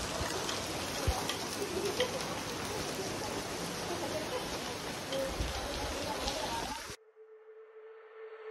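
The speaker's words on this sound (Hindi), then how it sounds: "बारिश आ चुकी है।" Sudden unseasonal rain falls steadily and fairly close, a dense even patter that runs for several seconds and then cuts off abruptly.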